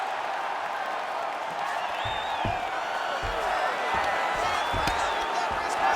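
A UFC arena crowd keeps up a steady roar of cheering and whooping for fighters returning to their feet after a long grappling exchange. Broadcast commentators talk over the noise.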